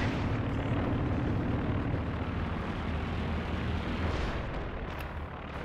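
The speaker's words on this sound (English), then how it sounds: "must be ready to make another Werfer barrage" Rocket artillery barrage from a Werfer in Company of Heroes 2, a dense, continuous rumble of launches and blasts filling the whole stretch at steady loudness, with no talk.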